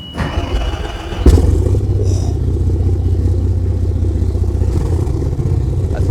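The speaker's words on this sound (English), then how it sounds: "new diesel engines of about 850 horsepower each, but that still should be quite powerful enough on a boat this size. So let's start them up and see how she goes." Diesel engines of about 850 horsepower aboard the WWII gunboat MGB 81 crank and fire up with a sharp catch, then settle into a loud, steady low rumble at close range.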